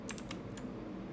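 Typing on a full-size computer keyboard, a short run of quiet, close key clicks with a few spaced strikes against a low background hum.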